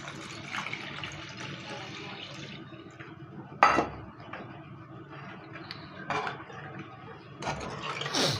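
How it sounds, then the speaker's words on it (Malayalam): Water pours and splashes into a pot of curry, with clinks of cookware and a few sharp knocks scattered throughout. "നമുക്ക് ഈ കറിക്ക് ആവശ്യമുള്ള വെള്ളം ചേർത്ത് കൊടുക്കണം"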